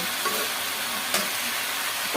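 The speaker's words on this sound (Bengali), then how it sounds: "ধনিয়া পাতা দিয়ে দিলাম, এটা ভাজা ভাজা হয়ে যাবে" Food with coriander leaves fries in a pan with a constant, close sizzling hiss and a faint scrape partway through.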